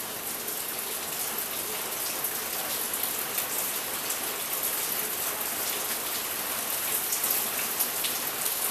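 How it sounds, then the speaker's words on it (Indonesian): Heavy rain pours steadily outdoors near a tall tree around 20 meters high, a dense even hiss of countless drops striking surfaces, constant and close with no talking. "Suasananya hujan ini sahabat KNI TV."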